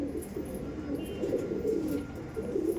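Pigeons, flying birds kept for sale, coo in a low steady murmur throughout, with soft overlapping calls at moderate distance and no talking.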